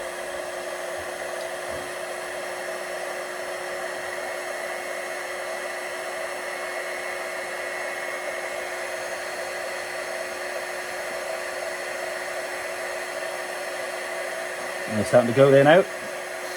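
A heat gun warms shrink tubing over a wiring connection on a Jeep Wrangler light, a steady close blowing hiss running throughout, with brief handling noises near the end and a voice speaking quietly.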